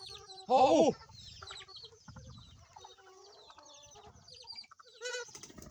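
Chickens cluck and squawk nearby, with one loud burst of clucking followed by softer scattered calls and another flurry near the end.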